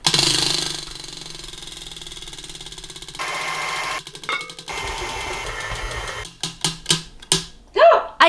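A spinning recipe wheel clicks in a fast ratcheting run that gradually slows, ending in a few separate ticks and thumps near the end, with steady background noise throughout.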